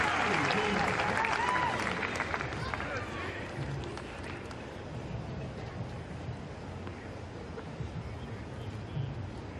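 Applause from a tennis crowd after a volley in a women's professional match, a broad steady roar of clapping that is loudest at the start and eases slightly, with commentary voices running over it.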